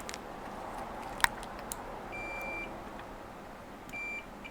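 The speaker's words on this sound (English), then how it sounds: "so if I measure that with my multimeter" A multimeter on an iPhone X logic board being checked for a short gives short electronic beeps, one tone near the middle and another near the end, over a quiet bench hiss.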